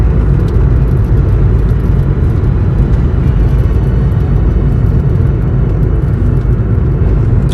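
Steady interior road noise of a car being driven, a constant low rumble and whir at even loudness with no voices.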